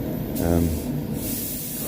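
Spray gun laying clear coat on a Nissan Leaf inside a paint booth, a steady close hiss that surges briefly and then holds evenly, with a low hum and a voice speaking underneath.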